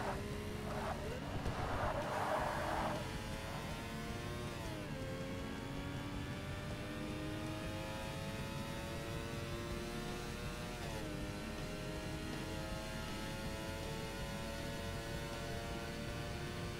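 A race car in Forza Motorsport climbs through the gears on a long straight, its engine note rising steadily in pitch with shifts, loud and continuous under a speaking voice.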